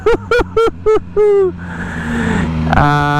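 BMW M1000R motorcycle engine in direct throttle mode, blipped in four or five sharp, loud revs at night, then settling into a rising idle drone.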